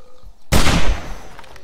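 Gunfire in the zombie survival game 7 Days to Die: one sharp, loud shot bursts out of quiet and rings off in a decaying tail.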